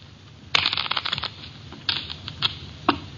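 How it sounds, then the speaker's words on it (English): A new deck of playing cards being shuffled at a card table, a burst of riffling clicks followed by a few shorter riffles and a final snap, close and clear with no talk. "Shuffle them, Mitch."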